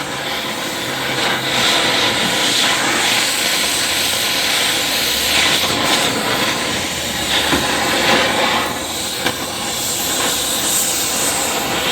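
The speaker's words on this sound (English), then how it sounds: "I'm heating up the manifold." Torch flame heating a car exhaust manifold around a broken exhaust stud: a loud, continuous roaring hiss close by, steady throughout with slight fluctuations.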